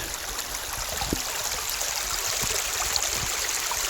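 Steady broadband rush of a small stream flowing continuously, close and even, with occasional faint splashes and no talking.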